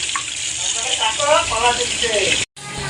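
Raw chicken being rinsed under running water in a home kitchen: a steady close gush of tap water that cuts off abruptly near the end, with a faint voice underneath.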